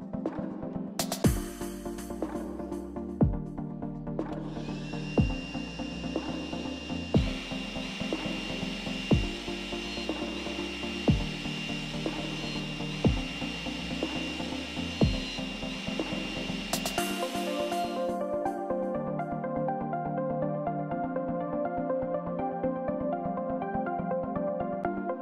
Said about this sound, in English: So at this stage, we've drilled all the mounting holes.